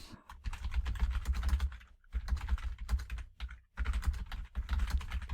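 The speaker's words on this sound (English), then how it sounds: "I can just start typing in the header" Typing on a computer keyboard, close and clear, with dense bursts of key clicks broken by a few brief pauses.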